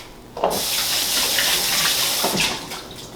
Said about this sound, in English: actually I gotta wash my hands